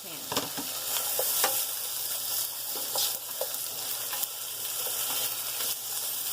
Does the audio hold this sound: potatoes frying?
yes